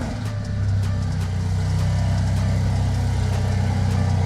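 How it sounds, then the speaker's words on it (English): A Mercedes GLA45 AMG engine, cold-started with no exhaust fitted, runs loudly and steadily at idle with a harsh, unmuffled rumble and faint ticking, close up, no voices. "are you ready for a cold start without exhaust?"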